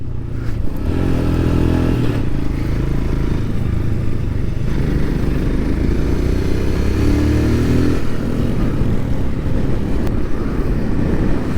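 A Royal Enfield Scram 411 motorcycle rides along a back road, its single-cylinder engine droning steadily and loudly with wind rush throughout, no talk.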